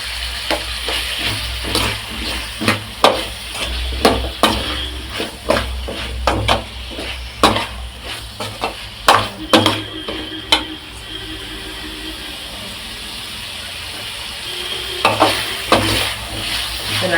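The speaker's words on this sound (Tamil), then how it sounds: "இது நல்லா வதங்கட்டும்." A handful of curry leaves frying in a pan for poricha kulambu, with a steady loud sizzle under repeated sharp spatula scrapes and knocks against the pan, which pause midway and then return.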